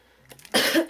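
A single harsh cough bursts out loud and close after a few soft rustles, then trails off quickly.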